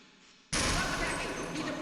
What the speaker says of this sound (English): getting a machine gun must be pretty exciting